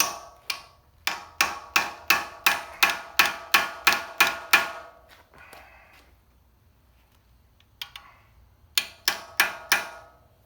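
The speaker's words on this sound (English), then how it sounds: "I'm just going to drive it on with the hammer as straight as possible" Sharp metallic hammer blows drive a seal onto the water pump shaft of a Honda Foreman 500 ATV in a quick, even series, pause briefly with a faint scrape, then resume in a shorter burst.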